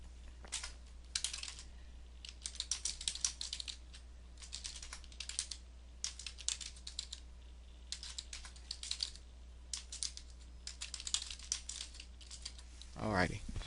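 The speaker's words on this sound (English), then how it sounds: "So I'm going to type the words up." Computer keyboard typing in quick bursts of clicks separated by short pauses, fairly soft and close.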